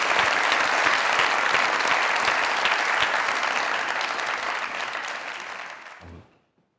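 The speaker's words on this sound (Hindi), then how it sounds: "प्लीज सारे इमरान साहब की तालियां।" A studio audience at a comedy show applauds Imran in a dense, even roar of clapping that holds steady, then fades and stops near the end.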